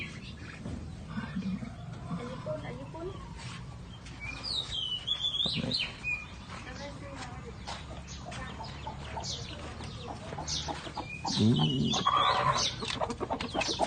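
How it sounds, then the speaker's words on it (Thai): A hen brooding on a clutch of eggs clucks softly and intermittently on a farm that also keeps ducks, with other fowl sounds and a steady outdoor background. "ไก่ก็มีนะครับผมอันนี้กำลังฟักไข่อยู่"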